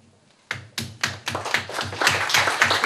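Hands begin clapping for the hosts at an art exhibition opening, starting as a few distinct claps in a slow rhythm and quickly swelling into fuller, denser applause from the gathered audience.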